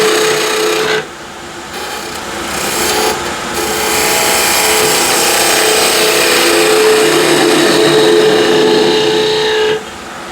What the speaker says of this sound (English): For the rough shape, I like using spindle gouge.